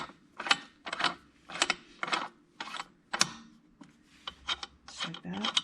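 Bolt being hand-threaded into the clutch of a Can-Am Ryker, a series of short rasping, scraping turns repeating in an even rhythm, close and fairly quiet, with no talking.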